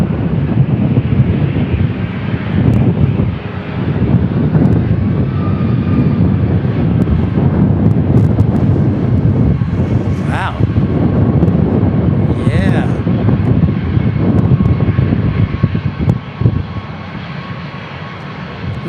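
A jet airliner passes at San Diego International Airport, its loud, steady engine roar filling the whole stretch with wind buffeting the microphone and brief whooshing swirls of wake turbulence partway through.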